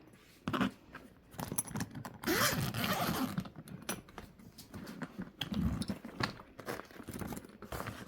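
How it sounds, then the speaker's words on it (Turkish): A new suitcase's zipper, fitted with details for attaching a lock, is pulled open in a series of raspy zipping strokes with brief pauses and handling rustles, close and fairly loud. "Burada böyle kilit tak takabilme için fermuarında detaylar var."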